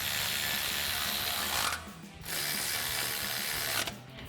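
A ratchet with a 19mm socket tightens caliper bracket bolts on a Tundra, giving dense rapid clicking in two close bursts separated by a short pause.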